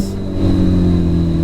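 Close, loud engine of a Ferrari 488 GTB sports car on a race track, revving up and holding a strong, steady mid-pitched roar for a brief burst with no talking.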